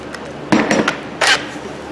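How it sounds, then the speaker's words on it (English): Big hammer striking a stuck suspension stud on a Ford Fusion, two sharp metallic blows about three-quarters of a second apart, close and loud. "I'm going to try to hit it in the middle with Big Nasty."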